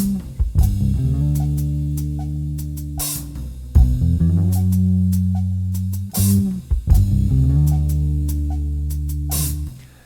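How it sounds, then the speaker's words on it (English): Soulful hip-hop beat featuring a mono guitar part, looping chordal phrases with short plucked notes over sustained low tones, repeating about every three seconds, loud and continuous. "And I added the guitar, which sounds like this."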